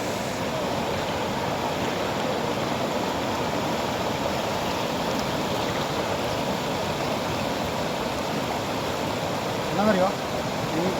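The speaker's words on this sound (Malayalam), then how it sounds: "വെള്ളം കൂടുന്നുണ്ട്." Rising monsoon flood water rushes loudly past a bridge in Kerala, a dense, unbroken roar that holds steady throughout with a brief faint voice near the end.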